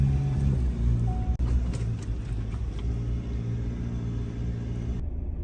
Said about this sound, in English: We're in hot pursuit of the race director car.